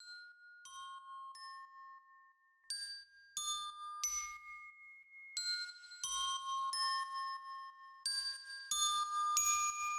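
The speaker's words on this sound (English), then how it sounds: "Nice little glockenspiel to kind of add some little extra flares." Bright glockenspiel notes ring out in a light melody, single tones and small clusters with a soft low thump under some of them.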